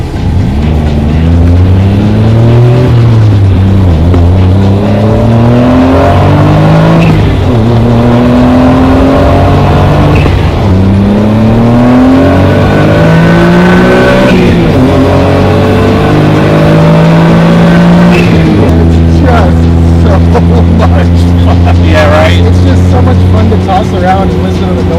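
A small Japanese kei car drives along with its engine droning loudly, and the pitch climbs and drops repeatedly as it accelerates through the gears. Heavy road and wind roar sits underneath, and people talk over the engine inside the cabin.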